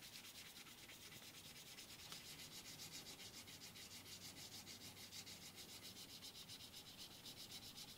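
A continuous, even rasp of a file scraping back and forth across a 1:64 scale model crew cab truck body, steady and rhythmic throughout with no talking.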